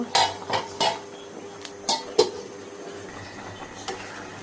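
Metal clinks and clatters of a lid being set onto a cooking pot of simmering prawn and taro curry, a few sharp near knocks spread over several seconds, with no talking.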